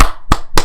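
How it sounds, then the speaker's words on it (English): Three sharp, close claps from a small podcast group, evenly spaced and loud, with brief silence between them. "Everybody, clap."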